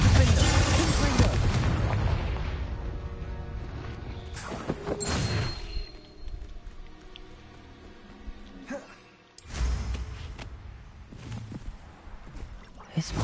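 Confringo blasting spell explosions in Hogwarts Legacy, two heavy booming bursts, one at the start and another near the middle, each followed by rumbling decay over game ambience and music.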